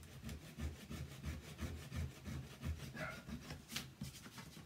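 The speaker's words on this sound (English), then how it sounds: "getting the little grooves in here that I want to get sanded" Wood is worked back and forth to sand little grooves, giving a steady rhythmic rasping scrape of about three strokes per second, close but quiet, with one brief sharper scrape near the end.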